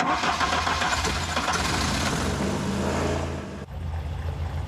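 A car engine with newly wired HT leads cranks and runs loudly up close, a steady rumbling roar that briefly dips and stutters near the end before carrying on.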